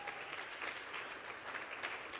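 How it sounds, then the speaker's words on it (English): An audience applauds at a theater event, a continuous, even patter of many hands clapping, heard alone and fairly soft. "give that a round of applause"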